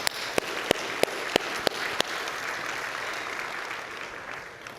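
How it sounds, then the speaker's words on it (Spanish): A church congregation breaks into applause for the Lord, a few sharp, loud claps near the start blending into a broad, sustained wash of clapping that carries on to the end. "Dale un fuerte aplauso al Señor."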